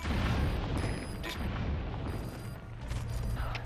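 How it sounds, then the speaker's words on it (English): C4 charges in Metal Gear Solid V detonate against enemy emplacements, a dense, rumbling roar of explosions with a few sharper bursts on top, holding loud through the whole stretch, with no talking. "Let's detonate the last two emplacements."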